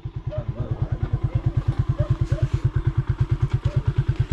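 A motorcycle engine putters nearby in a fast, even, pulsing rhythm, loud and steady with no talking.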